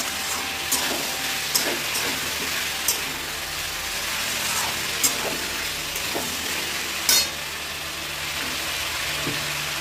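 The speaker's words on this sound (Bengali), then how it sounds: "এবার এর মধ্যে আমি মটরশুঁটি দিয়ে দেবো। মটরশুঁটি দিয়ে একটু নেড়ে নেবো বন্ধুরা।" Peas frying in a pan for a potato and broccoli curry, a steady broadband sizzle with occasional sharp scrapes and clicks from stirring, no talking.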